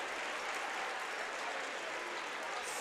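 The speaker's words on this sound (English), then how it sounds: "So nice round of applause from Comets fans" Comets fans at an indoor soccer game against the Milwaukee Wave give a dense, sustained round of applause from a crowd, steady for the whole stretch with a commentator talking faintly over it.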